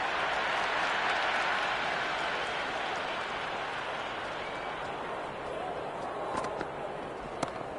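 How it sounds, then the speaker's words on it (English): A cricket crowd in the video game Cricket 26 roars and applauds in a steady broadband wash after a boundary drive. The sound is loud and sustained throughout, with a few sharper claps near the end. "The crowd is electric right now."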